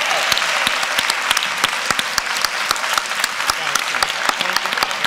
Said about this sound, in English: can we get one more round of applause for Attorney General Kamala Harris?